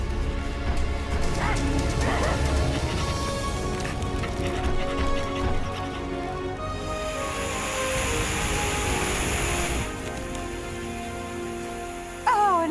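Dogs bark and yip in an animated firefighting rescue scene, loud and continuous amid a busy cartoon soundtrack of music and effects, with a whimper-like cry near the end.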